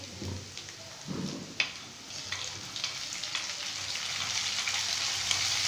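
Onions and chillies fry in oil, a close, steady sizzle that grows slightly louder, with a few soft knocks and stirring sounds early on and no speech.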